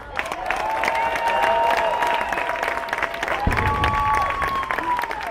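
Audience applauding at a Disneyland celebration, sustained clapping with crowd noise throughout, a voice and cheers rising over it midway.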